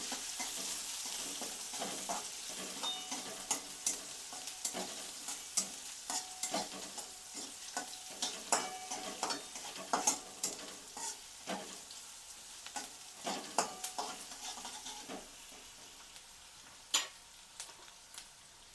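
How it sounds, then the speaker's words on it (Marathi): Onion frying in a pan until browned, with garlic cloves added, makes a faint steady sizzle broken by frequent clicking stirs and scrapes of a spoon. "नंतर कांदा. हे लाल होऊन द्यायचं."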